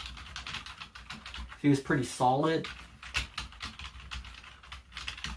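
Typing on a Logitech K480 Bluetooth multi-device keyboard gives quick, light key clicks in an irregular patter, close by and fairly quiet, while someone speaks briefly over the tapping.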